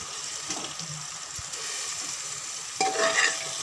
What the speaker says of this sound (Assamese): ইয়াতে মই কাজু আৰু কিশমিশখিনি দি দিম অকমান ফ্ৰাই হ'বৰ কাৰণে